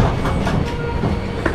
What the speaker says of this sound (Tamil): ட்ரெயின் எடுத்துட்டாங்க, அடுத்த ஸ்டாப்பிங் வந்து தென்காசி தான்.